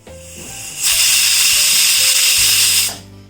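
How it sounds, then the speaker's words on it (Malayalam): A pressure cooker lets off a loud, close blast of hissing steam that holds steady for about two seconds before cutting off, with lower kitchen noise before and after. "ഒരു 4 വിസിൽ വരെ ഇതൊന്ന് വേവിച്ചെടുക്കാം."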